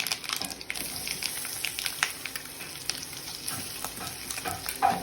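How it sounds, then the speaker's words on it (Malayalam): Roasted ground masala for dum aloo sizzles in hot oil with mustard seeds and chillies, a steady close frying hiss broken by repeated scraping stirs across the pan. "ഈ വറുത്തരച്ച മസാല നമ്മളിതിലേക്ക് ഇടുന്നു."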